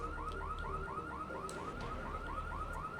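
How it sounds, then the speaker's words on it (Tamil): A car alarm in Grand Theft Auto 3 wails in a fast repeating electronic warble, an even cycle of rising tones sounding steadily and at moderate level without any talk. "ஐயோ ஏன் இது அலாரம் முடியுதுங்க காரில்"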